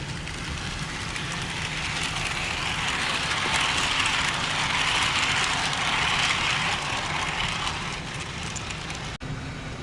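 A small HO scale model train runs steadily, a continuous whirring hum with a higher mechanical buzz swelling in the middle, then a brief click near the end.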